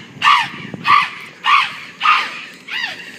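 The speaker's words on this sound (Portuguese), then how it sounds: "Cadê as gralhas da mamãe?" Pet jays give five harsh, raspy caws in an even series about half a second apart, loud and close, with no talking over them.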